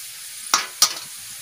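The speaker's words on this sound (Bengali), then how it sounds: "ডিম দিয়ে ভাজা করব" Two sharp spatula stirs cut through a low, steady sizzle of eggs frying with potatoes and carrots for fried rice, close by.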